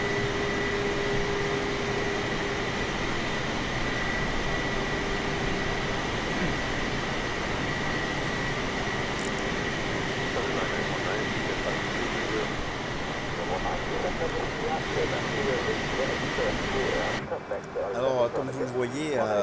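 An airplane engine in a flight simulator game hums steadily on approach to Bogota, a loud, continuous drone that runs almost unchanged before thinning near the end, with a voice talking over it.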